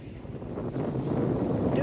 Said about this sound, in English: Doing this in voiceover as it's just too windy at the moment.